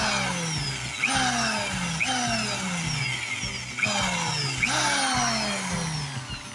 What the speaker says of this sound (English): I switch drills to a 29 drill, which is the tap drill for a